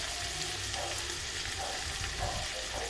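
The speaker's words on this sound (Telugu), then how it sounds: "ఇలా ఫ్రై అయిన తర్వాత చిన్న ముక్కలుగా కట్ చేసుకున్న టమాటాని కూడా ఇందులో వేసి వేయించుకోవాలి." Onions and chopped tomatoes frying in a pan for a fish and okra curry, giving a steady, dense sizzle with stirring, close and continuous throughout, with no talking.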